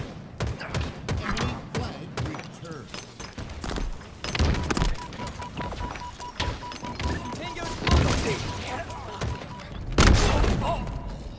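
Repeated heavy booms and thuds of cannon fire in Halo Infinite, irregular and punchy, with people talking over them throughout.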